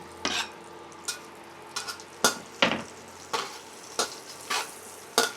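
Garlic sautéing in butter in a pan for creamy sopas, with a soft continuous sizzle broken by sharp, close scrapes and taps of a utensil stirring against the pan at irregular intervals.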